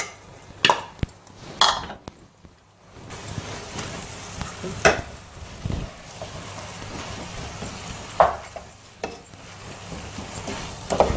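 Cooked rice stirred into spicy masala on a hot tawa, with scraping spatula strokes, soft clinks and a low sizzle coming in irregular bursts at close range; no talking.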